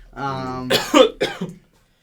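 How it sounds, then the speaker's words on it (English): A man gives a few rough coughs in quick succession, close and fairly loud, after a brief vocal sound, then silence. "So you notice how he's coughing"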